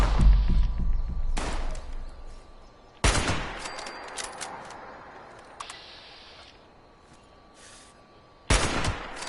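Gunfire in the video game Fallout 76 comes in several sharp bursts, some long and rapid like automatic fire and others single loud cracks, spread across a quiet interval.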